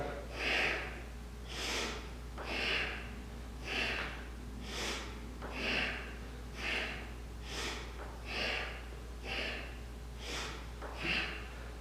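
Rhythmic, forceful nasal breaths in a Kundalini yoga exercise, about ten sharp snort-like exhales repeating roughly every second, close and alone over a low steady hum.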